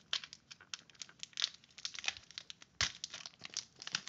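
A Digimon card game booster pack is torn open with quick bursts of crinkly foil tearing and crumpling, close and fairly quiet, with no talking.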